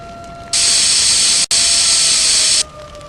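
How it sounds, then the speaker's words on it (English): A virtual fire extinguisher in a virtual reality training game sprays in a loud, steady hiss for about two seconds, cutting out briefly midway before resuming, then stopping. "Make sure to spray the fire at the base to effectively extinguish the fire."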